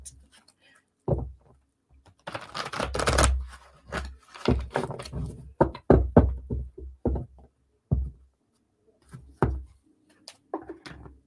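Tarot cards being shuffled close by, with irregular bursts of papery riffling, light taps and scraping that start and stop.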